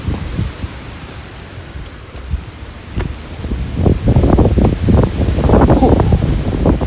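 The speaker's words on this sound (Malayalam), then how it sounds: "ഒരു രക്ഷയില്ലാത്ത കാറ്റ് കേട്ടോ" Strong wind on the Maruthwamala hilltop roars and buffets the microphone in rough gusts, quieter at first and then pounding loud and continuous through the second half.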